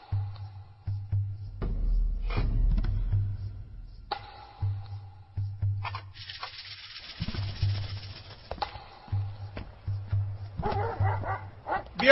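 Dog barking and yipping in repeated short bursts, close and fairly loud, with some whimpers, over a low background hum and occasional speech.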